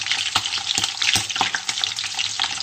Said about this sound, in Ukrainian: О, ребра піджаруються. Чуєте, як шкварчать?